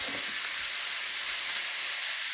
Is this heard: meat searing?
yes